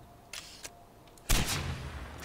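Enemy gunfire in the video game Far Cry 4: two short, distant cracks, then a louder burst of shots with a trailing rumble, fairly faint overall.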